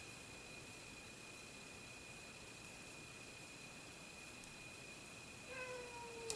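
A cat gives a single short meow right at the end, after several seconds of steady, faint electrical whine and room hiss.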